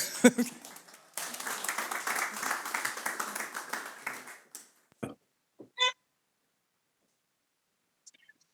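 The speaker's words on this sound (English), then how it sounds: "you can give him a warm applause anyway" A burst of audience clapping and applause lasts a few seconds, then fades out, leaving scattered faint clicks and near silence.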